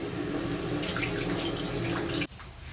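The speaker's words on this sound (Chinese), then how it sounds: "然后我们把它放在水上洗一下。" Tap water runs steadily over a red pomelo being washed in a sink, a close rushing splash that stops abruptly near the end, leaving quiet.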